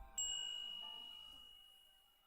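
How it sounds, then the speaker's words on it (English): A glass wind chime on a summer porch in a video game, a single bright ding struck once and ringing out clean and sustained, slowly fading away, with no voices. "a gentle breeze sways the wind chimes, and it's a cool tone that echoes"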